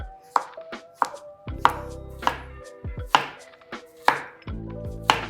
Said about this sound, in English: Now we'll chop our zucchini.